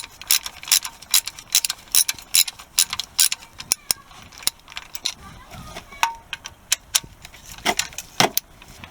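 Ratchet clicking in repeated bursts while undoing bracket bolts under a VW Golf mk2 during thermostat and head gasket work, close and crisp with brief pauses between strokes and faint tool clatter.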